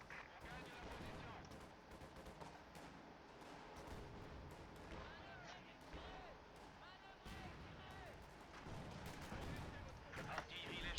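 Artillery bombardment in the video game Company of Heroes 2, repeated booming blasts and gunfire bursts spread across the scene under ongoing game sound, with a voice talking over it.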